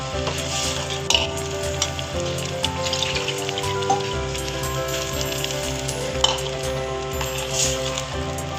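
Malvani fish curry simmers in a pan as a little more water goes in, giving a steady, fairly loud sizzling bubble with faint clinks and a low tonal hum underneath, no talking.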